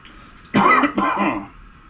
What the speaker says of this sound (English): Got a stupid cough, man.